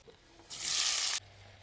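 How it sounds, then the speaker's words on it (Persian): Chicken frying in a mix of butter and oil, a bright hiss of sizzling that swells up suddenly, holds steady for under a second, then cuts off, leaving a quiet background hum. "اینجوری توی یه روغن کره‌ای مرغتون رو سرخ میکنین"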